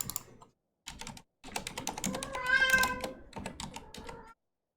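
A house cat lets out a drawn-out, whiny meow amid steady clattering of a computer keyboard being typed on nearby, with short pauses between the bursts of keys.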